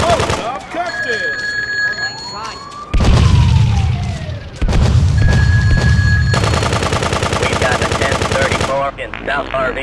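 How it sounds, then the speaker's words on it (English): Machine gun fire in the video game GTA 2, rapid rattling bursts broken by ringing tones and a heavy low boom, with game voices and effects layered over it. "Machine gun."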